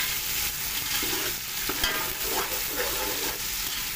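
Tomatoes fry in a pan for chana pulao, giving a steady, close sizzle with ongoing stirring scrapes and no talk.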